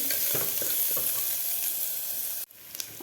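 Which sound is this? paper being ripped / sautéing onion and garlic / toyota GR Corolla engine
sautéing onion and garlic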